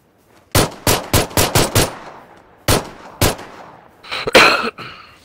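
Gunfire in PUBG on Xbox One: a rapid burst of about six sharp shots, a pause, two more single cracks, then a harsher cluster of impacts, loud and clear against near silence.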